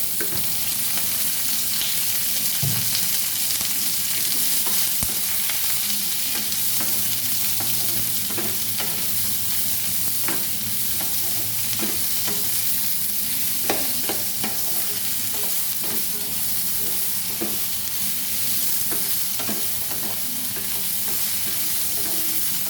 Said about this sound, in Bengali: সামান্য তেল দিয়ে দিচ্ছি পেঁয়াজ